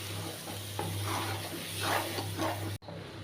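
Thick chana dal batter sprinkled with black cumin is stirred around a hot pan, a close, steady scraping sizzle with soft swirling strokes and a brief cut near the end.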